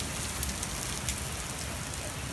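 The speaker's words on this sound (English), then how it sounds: "we're just doing rain stuff right now" Rain pours steadily on hard surfaces during a hail storm, an even dense hiss with a few sharper drop impacts.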